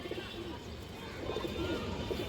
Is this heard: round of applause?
no